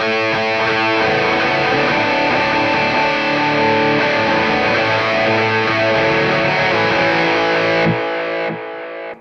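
A distorted electric guitar lead with no pitch shifter, played through a Quad Cortex, plays sustained, saturated notes, loud and alone, before cutting off and fading near the end.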